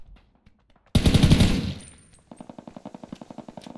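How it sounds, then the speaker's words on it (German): A burst of heavy gunfire from the online battle royale shooter Ring of Elysium erupts suddenly and loudly, followed by a steadier run of rapid, evenly spaced machine-gun shots, with no talking. "Ich werde beschossen."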